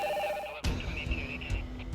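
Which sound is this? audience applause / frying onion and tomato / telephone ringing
telephone ringing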